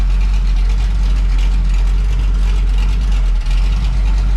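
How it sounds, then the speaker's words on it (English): Dodge Cummins diesel truck idling with a new exhaust and no muffler, a loud, close, steady low diesel rumble that stays constant throughout, with no voices. "it sounds so much better with that exhaust on"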